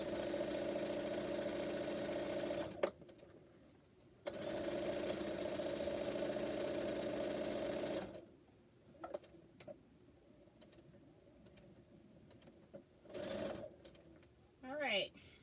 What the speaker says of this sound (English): that's one of the reasons why I'm sewing and going over pins